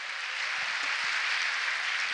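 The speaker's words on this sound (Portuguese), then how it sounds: "Você pode dar uma salva de palmas para o Senhor Jesus?" A church congregation at a conference claps together in steady, dense applause that holds at an even level throughout, with no talking over it.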